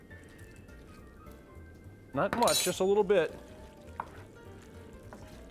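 Hot pasta water poured into a sauce in a pan sets off a brief burst of sizzling and splashing midway, with quiet frying before and after and a person talking.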